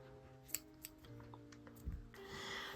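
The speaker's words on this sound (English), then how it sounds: "Just gonna trim it a little bit." Scissors trimming tufty embroidery threads held with glue, giving a few quiet, close snips spread over a short, hushed moment.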